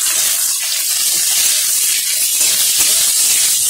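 Tomato dropped into potatoes already frying for Bengali alu posto sets off a loud, steady sizzle that runs without a break, with a broad hiss and no talking.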